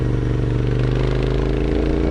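A motorcycle is ridden along a road in northern Thailand. Its engine drones steadily and loudly up close, with a constant throb and no talking.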